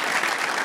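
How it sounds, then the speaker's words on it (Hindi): Brief burst of studio audience applause on an Eid-ul-Adha special television show, a steady, full wash of clapping with no break. "आजान के लिए जोरदार तालियां बजाइए"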